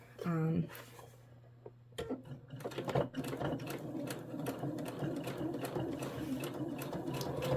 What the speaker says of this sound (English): with this one I'm sewing really close to the edge